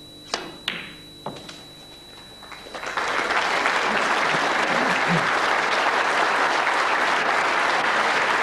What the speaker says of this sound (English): Crucible crowd appreciating that